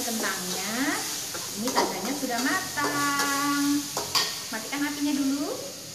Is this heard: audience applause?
no